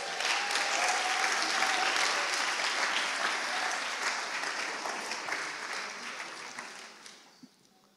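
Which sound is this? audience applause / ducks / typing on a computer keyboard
audience applause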